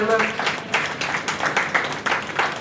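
A church congregation claps during a Sunday service, a fast, rhythmic burst of group clapping with a voice underneath.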